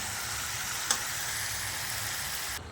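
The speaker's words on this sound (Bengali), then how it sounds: "মাংসটা দিয়ে নাড়াচাড়া করে 2 থেকে 3 মিনিট হাই ফ্লেমে এটা কষাবো" Spiced chicken pieces for chicken do pyaza are stir-fried over a high flame. A dense, steady sizzle fills the clip, and a single sharp scrape of a utensil cuts in near the start.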